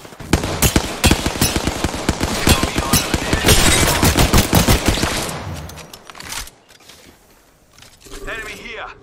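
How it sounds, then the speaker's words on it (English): Rapid automatic gunfire in Apex Legends, a loud dense burst of shots lasting several seconds, then tapering into sparser mechanical clicks and rattles. "just starts shooting at him"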